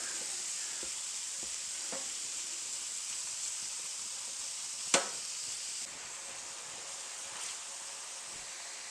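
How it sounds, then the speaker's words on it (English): Ground beef frying in a single pot for stroganoff, broad steady sizzle with occasional scrapes and taps as a spatula breaks up the meat, close and continuous with no talking. "we're going to cook it until the beef is totally brown and cooked through"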